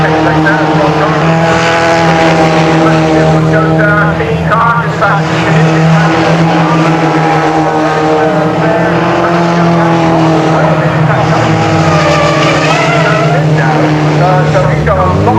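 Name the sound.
F3/GT race cars racing at Castle Combe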